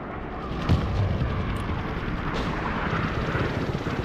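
Mi-28 attack helicopters in the Broken Arrow war game rumble as a steady, dense low roar with a few sharp impacts resembling gunfire or explosions, continuous and fairly loud throughout, with no speech.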